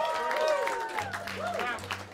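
Applause from a small audience at a live jazz club set, greeting the drummer, a moderate patter of claps continuing under a voice speaking over it.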